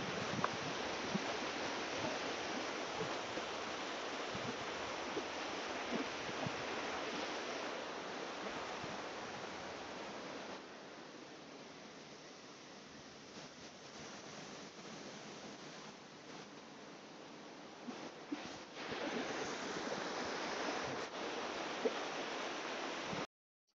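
Water flowing at a village spot in the Konkan where Ganesh idols are immersed, a continuous broadband rush of moderate level that eases off midway and then swells again, with no voices.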